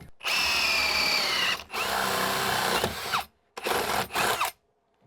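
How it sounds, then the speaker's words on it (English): A power drill whines in three bursts while drilling into wood, the first two long and steady, the last shorter, with brief silent gaps between them, loud and close. "I'm gonna drill down right here."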